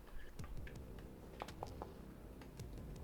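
Quick, light tapping on a computer keyboard during a tabletop role-playing session, faint and irregular, with soft background room noise.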